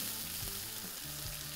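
Lamb shoulder sizzles and spits steadily on a grill pan over a barbecue, a close, continuous frying hiss with faint crackles throughout.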